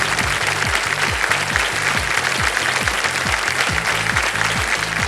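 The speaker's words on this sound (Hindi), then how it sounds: "ताली भी बज गई जनता की ओर से" Studio audience applause on the Kaun Banega Crorepati quiz show, sustained dense clapping over a rhythmic pulsing musical beat, with no talk.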